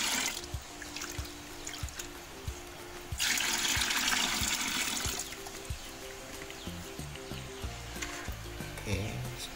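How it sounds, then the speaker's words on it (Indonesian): Rice-washing water is poured from a bucket for fermented EM4 organic fertilizer, giving a steady close splashing and trickling flow that swells into a louder gush midway before settling back to a running stream. "kita tuangkan satu ember cucian beras"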